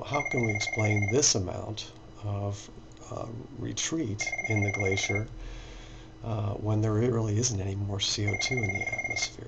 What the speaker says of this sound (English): let me apologize for the phone ringing there